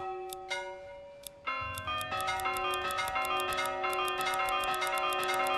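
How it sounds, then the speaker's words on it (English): Bright, ringing church bell chimes from the video game Manor Lords strike in a steady, repeating pattern, layered tones overlapping and sustaining, growing fuller as more bells join; no voices. "you can change the church bell"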